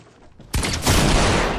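Sudden loud burst of gunfire in the video game Fortnite, breaking in after a quiet moment and continuing as a dense, sustained volley, no voices.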